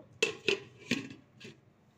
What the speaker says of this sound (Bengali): এবারে আমি এটা ঢাকা দিয়ে দেব।